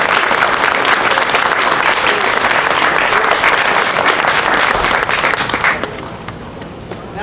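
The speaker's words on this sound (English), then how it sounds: "So can we give them a round of applause?" Loud, dense audience applause for three event organizers at a Flag Day celebration holds steady for several seconds, then thins abruptly near the end.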